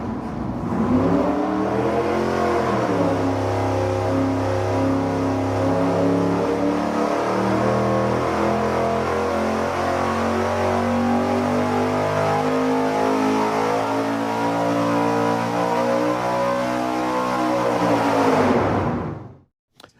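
A tuned car engine with sequential fuel injection revs hard on a dynamometer in a test cell, a loud, steady high-rpm pull that climbs, holds for many seconds and then cuts off sharply near the end.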